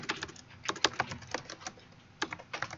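Quick bursts of keystrokes on a computer keyboard, clattering in uneven clusters with short pauses between runs, close and moderately loud with no voices.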